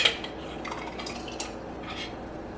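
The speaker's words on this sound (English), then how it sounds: "And then I ladle up my tomatoes." A ladle clinks against a pot and jars while stewed tomatoes for canning are scooped up: light, close metallic taps and scrapes over a faint steady hiss, with no voices.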